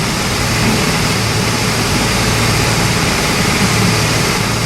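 A 1967 Pontiac GTO engine runs loud and close, a dense, steady mechanical roar that holds constant throughout with no pauses or voices.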